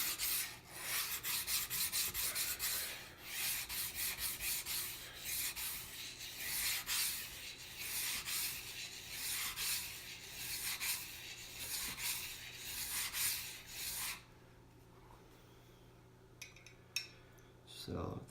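A butcher's knife rasps back and forth on a coarse 70-micron sharpening stone in steady rhythmic strokes, close and bright, before the scraping stops near the end.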